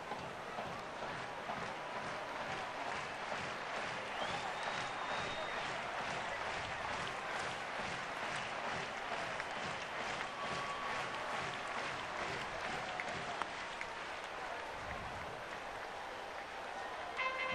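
Baseball crowd at a 2008 Cleveland Indians home game against the Seattle Mariners, applauding and cheering steadily in the bottom of the eighth inning, a dense, distant wash of clapping and voices that carries evenly throughout.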